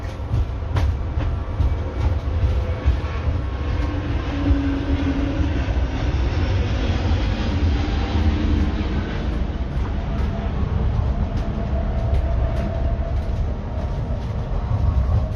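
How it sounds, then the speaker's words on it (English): An electric Heathrow pod transit vehicle climbing slowly uphill, heard as a steady, loud rumbling ride with rolling rail-like drone and faint clicks, continuous throughout with no talking. "Very slow going up the hills on these pods."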